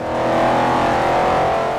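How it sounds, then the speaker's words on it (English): A racing car engine in the video game Forza Motorsport 4 revs loudly at a steady high pitch, a sustained buzzing whine with no voices. "It's clear a lot of care was taken in getting the engine sounds just right."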